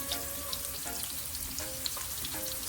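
Lamb lollipops frying three at a time in a pan, a close, steady sizzle with soft popping spatters and a few faint clinks, no one speaking.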